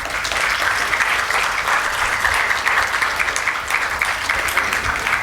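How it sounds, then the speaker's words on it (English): A school audience at an ICSE felicitation ceremony gives theatre students a sustained, steady round of applause, a dense wash of clapping heard alone. "A round of applause for our rising theatre artists here at Jaipuria."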